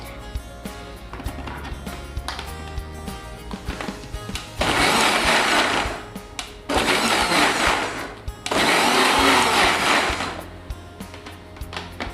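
Mixer grinder blending peeled orange segments with half a glass of water for juice, three loud whirring bursts of several seconds each, separated by short pauses with quieter clatter.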